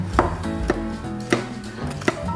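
A knife cutting through a buttered white chocolate bread pudding, giving about five distinct, fairly sharp cutting knocks against a board at an uneven pace.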